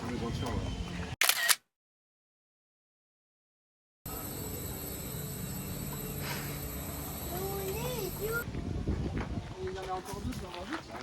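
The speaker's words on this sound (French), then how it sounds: "Tu veux faire une photo?" A camera shutter clicks once near the start amid voices, followed by a stretch of silence and then background chatter and ambient noise at an outdoor Provence site.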